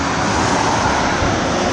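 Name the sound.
car traffic on the Rivière des Galets bridge, Réunion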